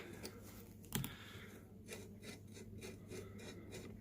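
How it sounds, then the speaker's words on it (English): Allen key turning and scraping against the barrel nut of a Hammerli Tac R1 rifle during disassembly, a quiet, close rasping with a sharp metallic click near the start, then steady faint rubbing and fiddling. "So with the Allen key you're provided, quite literally unscrew that"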